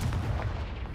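Blasting-spell explosion in the Hogwarts Legacy video game, a single deep, booming blast with a rumbling low-end tail that fills the short moment, loud and close, with no talking over it.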